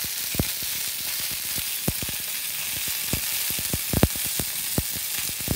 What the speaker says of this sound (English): the sausage links are still cooking